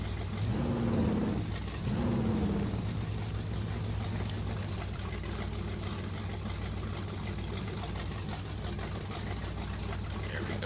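A truck engine in the Spintires off-road driving game runs steadily at a droning low pitch, with a brief rev rise early on and a constant rumble after, with someone speaking briefly over it.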